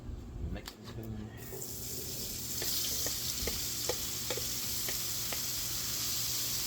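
Potatoes fry in vegetable oil on a Blackstone flat-top griddle; a sizzle swells after a quiet start and holds steady, broken by scattered metal spoon clicks and scrapes.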